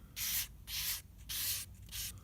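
A scraper drags primer across guitar body wood, working it into the pores in four steady, close strokes of hissing, raspy scraping, each separated by a short pause.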